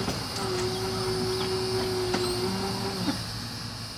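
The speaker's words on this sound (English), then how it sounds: "That's the noise of the power switch reversing to turn out Q237 off of track 2" A long, steady mechanical whine from a trackside railroad power switch machine reversing the points ahead of a CSX coal train, running for a few seconds over constant outdoor background noise, then stopping with a clunk.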